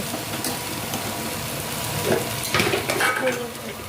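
Spiced vegetable curry with banana stem is stirred gently in a pan, a soft scraping and sizzle that builds into a few louder strokes toward the end, with no voices.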